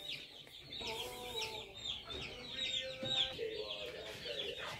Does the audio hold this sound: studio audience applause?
no